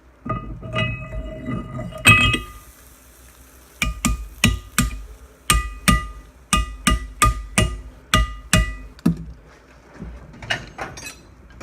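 Hammer tapping a heated interference-fit part down onto an axle shaft: a few scattered clanks, then a quick run of about a dozen crisp, ringing metallic taps in bursts, close up, with no talk.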